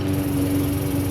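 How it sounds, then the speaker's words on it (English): An outdoor lawn mower drones in the background, a steady, unbroken engine hum throughout the short stretch with no talking. "Sorry about the lawnmower in the background."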